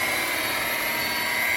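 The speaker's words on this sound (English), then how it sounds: "as you can hear my buffer. My buffer doesn't like me too much" Electric polisher buffing a boat's gelcoat, a steady high-pitched whining drone with a constant motor tone, loud and close throughout.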